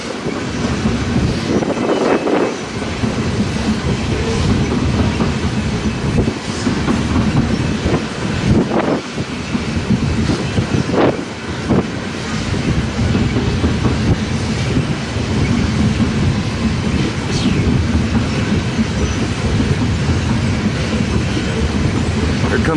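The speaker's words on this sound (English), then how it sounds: "Comes the CP unit and the buffer car at the end of this ethanol train." Canadian Pacific freight engines haul an ethanol train past at Fremont, Nebraska, a loud continuous rumble of rolling cars with steady clickety-clack and occasional squeals, no voices.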